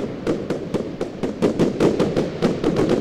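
Fireworks in the Roblox game Lumber Tycoon 2 burst in a rapid, fairly even string of about a dozen sharp crackling pops over a few seconds, loud and close. No one speaks.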